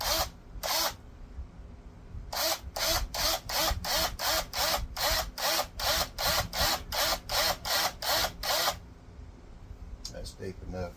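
A power drill boring holes, repeated short bursts of whirring in a quick regular series with brief pauses between them, close and loud, with a few separate bursts before and after, and a voice heard between.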